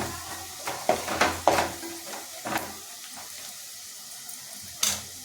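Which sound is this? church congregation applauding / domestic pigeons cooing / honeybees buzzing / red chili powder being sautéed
red chili powder being sautéed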